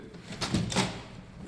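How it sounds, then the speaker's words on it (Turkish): A cabinet door on a solid-wood display sideboard, fitted with an antique-style stainless brass Spanish lock, is opened and closed, giving a few soft knocks and latch clicks close by in a quiet room. "Ürün kapılarını antik formda paslanmaz pirinç İspanyol kilit sistemleri kapatıp açıyor."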